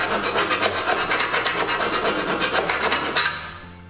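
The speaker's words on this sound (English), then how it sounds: "filing off any sharp edges we may have created until we can run our finger down it and it feels smooth" Hand file rasping the sharp cut edges of 4 mm steel cable tray, loud rapid rhythmic strokes close up, continuing steadily before stopping abruptly.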